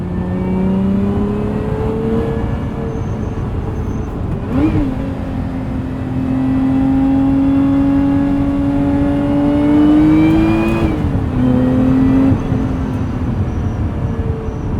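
A 2024 Lotus Emira's supercharged mid-engine V6 revs up and down repeatedly, a loud, whirring roar rising and falling in pitch, heard close and steady.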